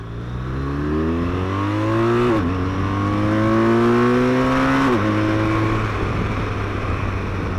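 A 2016 BMW R1200RT touring motorcycle accelerates hard through two quick upshifts, its whine climbing after each gear change, loud and close.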